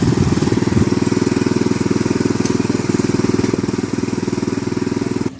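A petrol-engine power weeder tractor, started by handle, runs loud and close with a fast, even, throbbing chug that holds steady for several seconds before cutting briefly at the end.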